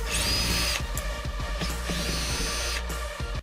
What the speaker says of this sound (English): Next up, we got to unscrew the center console. That's what we got the drill for.